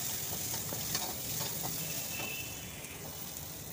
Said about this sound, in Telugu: మంచి కలర్ వచ్చేదాకా ఫ్రై చేయాలి